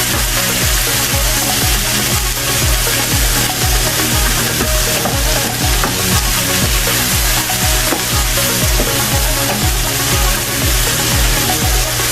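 Mushrooms and onions frying in a pan while being stirred, a loud, dense, unbroken sizzle with a steady rhythmic pulse of stirring strokes throughout.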